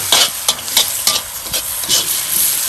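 Cashews are stir-fried in oil in a Lodge wok over a Weber charcoal grill, a close, loud sizzle broken by repeated rhythmic scrapes and clacks of the spatula against the pan, with no talking.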